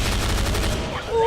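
A double-barrel shotgun firing in a Left 4 Dead mod video game, a loud, dense blast with rapid pulsing repeats packed into a short moment.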